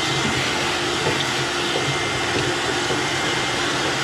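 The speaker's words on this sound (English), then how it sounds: "vacuum out the inside here." Vacuum cleaner steadily running while sucking ash and debris out of the inside of a well-used Traeger pellet grill, a constant broadband whooshing drone with a low hum, continuous and close for the whole stretch.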